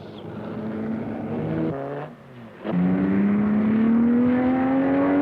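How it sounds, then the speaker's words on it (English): Race cars from the 1964 Sebring practice, such as Ferraris, Cobras, Porsches, MGBs, Sprites and Corvettes, run on the airport-runway course. One engine revs and shifts, dips for a moment, then climbs again with a loud rising whine. "the Ferraris, Cobras, Porsches, MGBs, Sprites, Corvettes will tear over this combination of airport runway and blacktop road"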